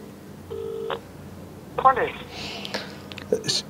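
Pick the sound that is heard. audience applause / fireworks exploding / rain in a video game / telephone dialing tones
telephone dialing tones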